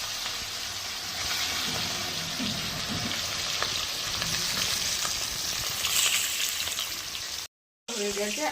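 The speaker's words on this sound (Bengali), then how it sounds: "তেল গরম হয়ে গেছে কড়াইয়ে। মাছগুলো ভেজে নেবো, বড়ি ভেজে নেবো, সিম আলু সব ভেজে নেবো।" Rohu fish, bori and beans fry in hot oil in a wok, giving a strong continuous sizzle with crackling and the scrape of stirring, loud and close, and a brief silent gap near the end.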